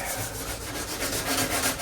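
Steady broadband rubbing of 320-grit sandpaper smoothing the previously rounded body edges of a 1932 Coupe, continuous and close with gentle rhythmic strokes, no voices.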